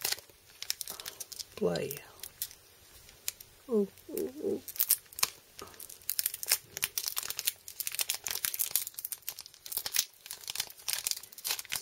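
A foil Pokémon card booster pack is torn and crinkled open by hand, with repeated sharp crackling and ripping bursts that go on for a long time, close up, with a few brief vocal sounds in between.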